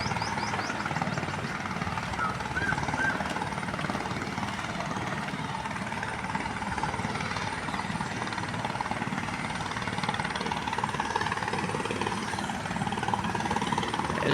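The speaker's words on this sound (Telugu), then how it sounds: "హెలికాప్టర్ ఆడిస్తున్నారండి, చూస్తున్నారా?" Helicopter flying nearby over a ground near Guntur, its rotor and engine making a steady, loud, continuous churning roar that holds throughout without any speech.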